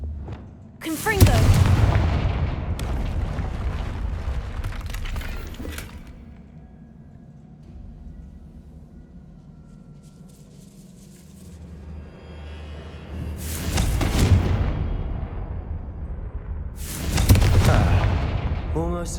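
Confringo spell in the Hogwarts Legacy video game blasting a barrier, several loud booming explosive bursts with rumbling decay, separated by a quieter stretch.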